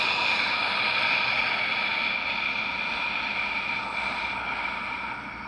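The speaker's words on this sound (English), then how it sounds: "When you exhale, you want to make the sound like this." Slow, deep breathing exhale made deliberately audible, a steady airy hiss held for several seconds and tapering off gently at the end.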